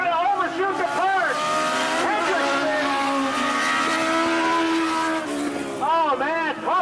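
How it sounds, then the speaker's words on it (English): A race car at Tosa Raceway Park locks its tires and overshoots a turn. A loud, wavering squeal runs nearly the whole time, rising and falling in pitch over steady engine noise, and a voice talks over it. "Miles locking up the tires"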